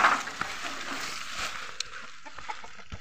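Chickens cluck softly in a farmyard, short scattered calls over a steady outdoor hiss, with occasional louder bursts and no talk.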